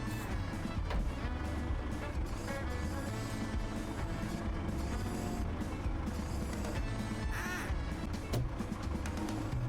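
A flock of ducks in the VR digging game DIG VR quacks over a dense, continuous mix of low game rumble and clatter, the calls coming thick and irregular throughout.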